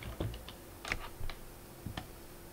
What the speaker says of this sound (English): You can type something, maybe children,